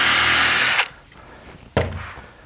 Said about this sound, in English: put some screws in.